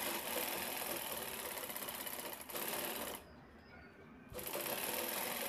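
A sewing machine stitches piping onto a cloth zipper bag, its fast steady whirring run loud and close, stopping for about a second before starting again.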